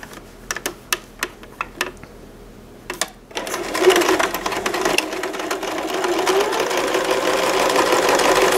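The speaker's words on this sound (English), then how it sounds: "So we'll just sew around here and cut it down." A sewing machine stitches felt penguin toy flippers: a few sharp separate clicks and taps first, then a steady close mechanical whirr that builds and runs continuously to the end.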